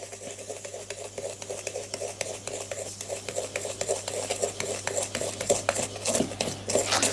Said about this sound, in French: je vais mettre dans mon cul de poule le beurre pommade et le sucre en poudre. Et je vais donc mélanger ces deux éléments